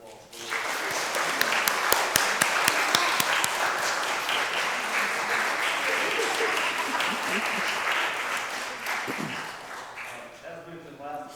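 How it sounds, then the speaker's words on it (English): An audience gives steady, sustained applause for fifth-grade performers at a school colonial program, a full room of clapping that swells and then tapers at the end, with some crowd voices mixed in. "Let's give these guys a round of applause, please."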